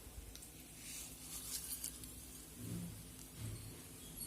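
Crushed crispy biscuits poured onto rotti stuffing for a Dakshina Kannada snack, giving a soft, steady patter and crunchy rustle close by, with a few brief squishy bumps partway through and no talking.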